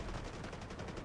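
Rapid automatic gunfire in the mobile shooter game Delta Force: Hawk Ops, a dense, evenly paced burst of shots, moderately loud and continuous.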